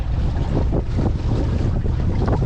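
Sailboat under jib and mizzen beating upwind in gusty force 4 to 5 wind: steady loud wind rush and buffeting with hull and water wash, no voices.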